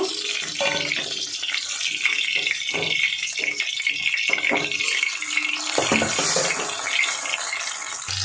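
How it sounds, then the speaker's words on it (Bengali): Second batch of pakoras frying in hot oil in a home kitchen, a steady sizzling hiss throughout with occasional sharper crackles and light clinks, fairly close and alone with no talk. "দ্বিতীয় ব্যাচের পকোড়াগুলো ভাজা হচ্ছে"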